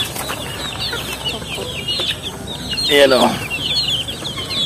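Pet chickens cluck busily at an afternoon feeding on the ground outdoors, a steady close chatter of overlapping calls with a louder squawk and a brief flutter midway, while a person speaks briefly.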